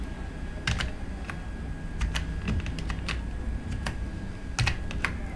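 Keys clack on a computer keyboard as a verification code is entered on a results login page, a few quick irregular bursts of taps, close and fairly quiet with no talk.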